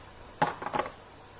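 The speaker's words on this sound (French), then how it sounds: "Je vais la mettre directement entière dedans" A whole nutmeg dropped into a Thermomix bowl while making hachis parmentier lands with two quick, light clinks close by, then goes quiet.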